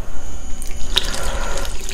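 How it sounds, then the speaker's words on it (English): Water is poured into a dry concrete mix for a homemade bonsai pot, a steady close splashing trickle running for a couple of seconds. "And now we'll put a little bit of water,"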